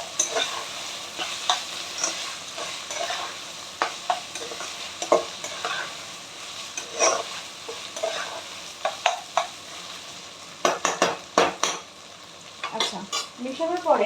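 Chicken fried rice with chili, tomato, soy sauce and vinegar being stirred and scraped in a pan, a steady run of close spatula scrapes and clacks over a light sizzle, growing busier toward the end.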